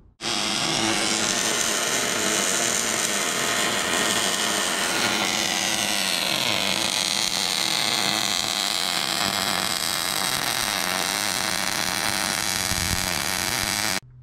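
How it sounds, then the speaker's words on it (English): Final welds fuse overlay plates onto a Class 11 beam, a loud, steady, close crackling hiss with a faint buzzing hum that runs unbroken for about fourteen seconds. "now he's going to go ahead and final weld them on"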